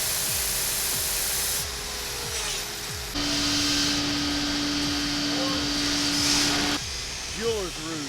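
A metal hand tool is ground on an abrasive Trizact belt ahead of polishing, a loud whirring belt grinder with a steady hum and a higher pitched grinding stretch as the workpiece is pressed in the middle.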